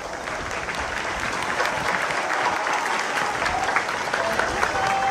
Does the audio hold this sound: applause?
yes